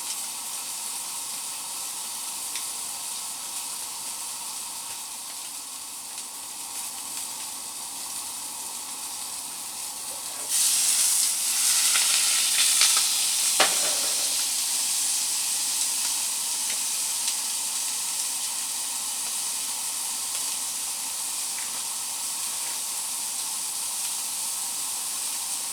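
Catfish sears in a hot pan for blackened catfish, giving a steady bright sizzle and hiss that swells louder partway through, with a brief clatter, and no talking.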